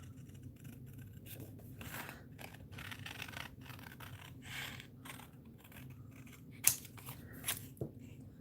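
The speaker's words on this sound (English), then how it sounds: "it's easier to cut straight if you're just using the blade of your scissors to keep it straight" Scissors snipping through card while trimming straight edges, a run of quiet close scratchy cuts with a few sharper snips near the end, no voices.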